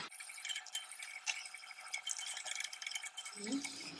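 A spoon stirs rice-based mango phirni coming to a boil in a pan over a low-medium gas flame, soft continuous scraping and bubbling, quiet and close.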